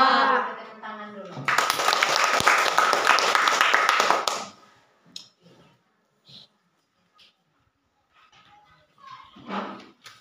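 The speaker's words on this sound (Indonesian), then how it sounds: "Kita tepuk tangan dulu." Classroom applause as students clap their hands together, a dense burst of clapping lasting about three seconds after a spoken line, followed by scattered faint taps and speech.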